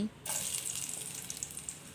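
Steady hissing crackle of garlic frying in hot oil, starting abruptly after a brief pause and continuing close and fairly loud.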